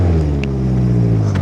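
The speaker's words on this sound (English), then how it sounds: "let's start her up. Let's give it a couple of revs." A car's engine idles with a loud, steady low rumble close by, holding an even note throughout with no clear rev rising above it and no talk.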